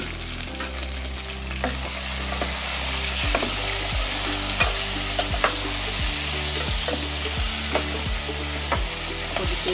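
Green chilies fry in hot oil after garlic, giving a steady close sizzle with a few soft clinks from stirring in the pan.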